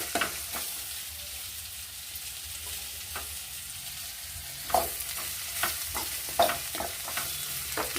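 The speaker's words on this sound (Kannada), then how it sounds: "ಸ್ವಲ್ಪ ಎಣ್ಣೆ ಒಳಗೆ ಇಟ್ಟು ರೋಸ್ಟ್ ಮಾಡ್ತೀನಿ" Bitter gourd roasting in a little oil in a pan gives a soft, steady sizzle, broken by several sharp scraping stirs toward the end, with no voices.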